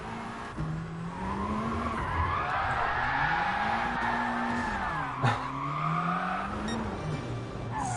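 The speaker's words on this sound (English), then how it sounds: "You can make this thing drift when you use your handbrake." A GR.4 race car in GT Sport drifts with the handbrake at the Nürburgring, its tires squealing loudly and steadily over a droning engine, with a brief sharp skid spike near the end.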